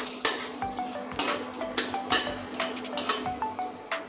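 Four dried red chillies and a torn bay leaf sizzle in hot oil, a steady close frying hiss broken by repeated sharp metallic clinks of a stirring utensil against the pan.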